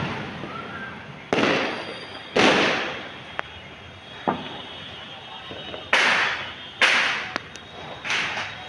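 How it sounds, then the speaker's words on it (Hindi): Firecrackers set off by children during the Diwali season burst in a string of sharp, loud cracks, some close together, each with a brief decaying tail. "आजकल बच्चे पटाखे जला रहे हैं।"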